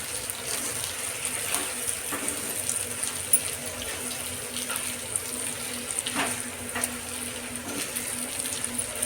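Bitter gourd (kakarakaya) slices frying in a pan, giving a steady, fairly quiet sizzling hiss with faint crackles throughout.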